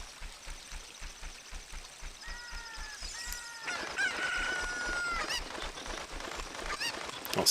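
Chicken clucking and squawking in the video game The Legend of Zelda: Ocarina of Time, a series of sharp rhythmic clucks followed by a louder, denser flurry of bird calls over game sounds.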